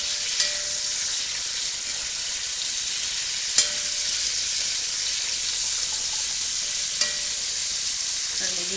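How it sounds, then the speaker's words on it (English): Curry chicken browning in hot oil gives a steady, dense sizzle and fry hiss throughout, with a few brief sharp clicks of utensils, and no voices. "Now we're going to dump this in here into the hot oil. I just want to brown it just a little bit."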